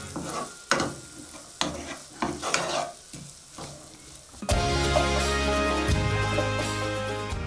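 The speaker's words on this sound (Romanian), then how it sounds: "O să o lasă să călească bine." Onion sizzles in butter with beef in a pan for a beef with mushroom sauce dish: scraping stirs and clinks come first, then a loud, steady frying hiss takes over and continues to the end.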